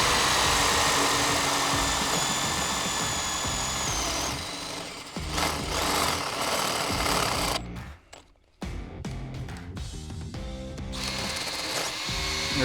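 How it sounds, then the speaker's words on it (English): A power drill bores through a fiberglass FRP FireStrong utility pole, grinding loudly and steadily, then dropping out briefly near the end and starting again with harsh, uneven bursts. "I'm going to drill the pole."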